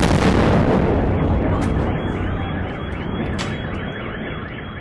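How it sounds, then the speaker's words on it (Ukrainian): A huge, booming missile strike explosion in central Dnipro, heard from a 10th-floor balcony, erupts at once and rolls on as a long, loud rumbling roar that slowly decays, with a high alarm-like tone ringing through it. "Момент вибуху в прямому ефірі зняв місцевий блогер Владислав."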